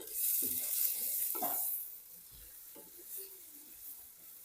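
Scotch bonnet peppers fry in a pot for Nigerian beans porridge, giving a bright hissing sizzle with a few stirring scrapes and clinks that softens to a quieter, steady fry after the first couple of seconds.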